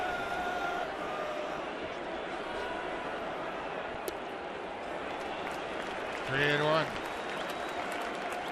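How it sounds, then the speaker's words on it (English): A baseball crowd at a Blue Jays home game in Toronto cheers and applauds after a home run, a steady wash of sustained noise through the whole stretch, with a commentator's voice briefly heard over it. "DeRosa's home run has re-energized this crowd."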